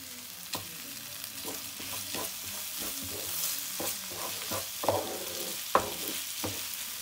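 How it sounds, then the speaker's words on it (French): Shrimp sizzle and fry in a pan, a steady hiss of hot oil broken by occasional stirring scrapes and small pops, close and clear with no voices. "Je laisse revenir 5 minutes ونخليه يتقلى 5 دقائق"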